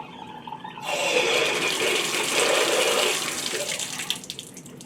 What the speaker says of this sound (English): we will open and close the valves fully so you can see how that operation is done